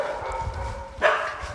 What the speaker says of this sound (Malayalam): പട്ടികളെ ശല്യം ഉണ്ട് കേട്ടോ.